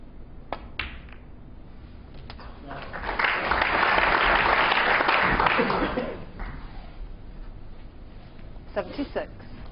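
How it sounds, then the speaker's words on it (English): Audience applause at a snooker match at the 2008 World Snooker Championship swells from about three seconds in, holds loud for a few seconds, then fades back to scattered sounds and quiet talk. "some applause from the audience tells us that he's just about secured the frame in one visit."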